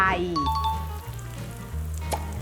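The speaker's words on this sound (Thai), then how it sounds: "น้ำมันเหมือนจะเดือดแล้วอะค่ะ โอเคทอดเลยครับ" Cheese tonkatsu sizzles and crackles steadily in hot oil, close by, while voices speak briefly over the frying.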